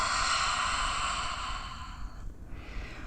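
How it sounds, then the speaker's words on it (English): A single long, gentle exhale through the mouth during a yin yoga session, an airy breath that fades out after about two seconds, close and quiet. "Maybe this time you exhale through the mouth"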